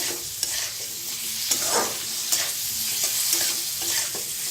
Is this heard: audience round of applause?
no